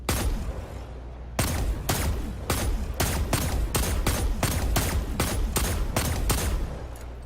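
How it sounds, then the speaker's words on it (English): Rapid gunfire from a weapon in Destiny 2, a steady run of about a dozen sharp, loud shots at an even rhythm, each with a short ringing tail, heard alone. "because I've heard guns sound like that before on here"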